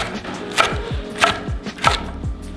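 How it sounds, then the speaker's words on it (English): A knife chops through green onions on a cutting board, several sharp cuts in an uneven rhythm with a low thud under each. "So we're gonna chop up some green onions."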